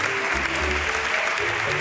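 A studio audience claps in a short burst of dense, steady applause, fairly close and even throughout.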